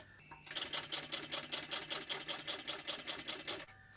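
Close, steady sewing machine clatters in a fast even rhythm for about three seconds, stitching across the bottom of a Brentwood backpack, with quiet before and after.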